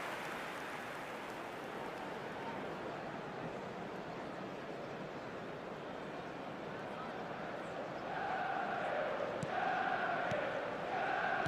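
Stadium crowd noise from an eFootball (PES) match, a steady broadband roar throughout that swells louder near the end with a commentator's voice rising over it.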